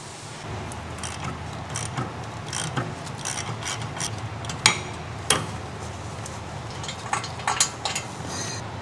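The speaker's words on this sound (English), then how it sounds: "Using the large ratcheting wrench with the large 15mm short socket," A large ratcheting wrench with a 15mm socket loosens the brake caliper retaining bolts on a 2015-2018 Ford Fusion, making faint rasping ratchet clicks with a few sharper metallic snaps over a quiet background.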